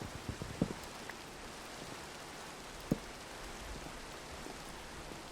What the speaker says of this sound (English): It's a bad time for rain?